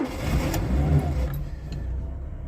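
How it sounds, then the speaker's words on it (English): A Wartburg 1.3 with the early Volkswagen overhead-cam engine and automatic choke cranks and catches, settling into a steady close idle with a low rumble and no talk. "Very familiar sound from the early Volkswagen overhead cam engine"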